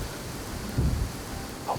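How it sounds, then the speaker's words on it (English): Steady rain patters outdoors beside a bean field during a deer hunt, with a brief low rumble partway through; a soft, even wash at moderate distance, no talking. "Unfortunately, it brought rain."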